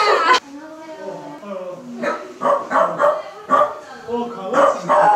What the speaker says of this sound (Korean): 강아지